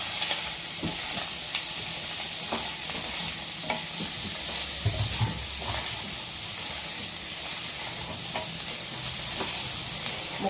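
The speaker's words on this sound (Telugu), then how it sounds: "ముక్కలు ఎర్రగా వచ్చిన దాకా కొంచెం వేయించుకుంటే వెన్నలో బాగుంటుంది" Chicken pieces fry in butter with biryani powder for a white sauce chicken pasta, giving a steady close sizzle with scattered scrapes and taps of stirring throughout, no voices.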